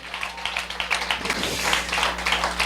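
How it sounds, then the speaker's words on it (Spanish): A church congregation claps together in a steady, fairly even rhythm, a moderate burst of hand claps in a reverberant hall with a low hum beneath. "Denle un fuerte aplauso al Señor."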